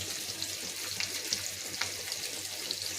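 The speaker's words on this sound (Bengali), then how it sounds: "এই যে ইলিশ মাছ ভাজা হচ্ছে" Hilsa fish pieces frying in hot oil in a pan for mustard-poppy-seed hilsa, heard as a steady, fairly quiet crackling hiss with small scattered pops throughout, no one talking.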